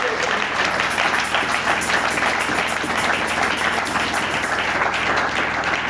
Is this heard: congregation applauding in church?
yes